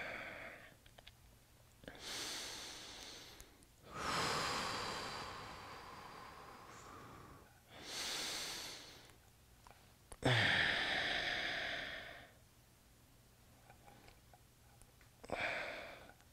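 A person doing a glute mobility stretch takes slow, deep breaths, with several long, airy inhales and exhales spaced a few seconds apart, close and quiet with no talk.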